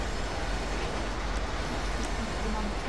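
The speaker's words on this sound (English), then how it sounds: "I'm on a train." Train ride in the video game Grand Theft Auto V, heard as a continuous loud rumbling roar of rolling rail noise with no breaks.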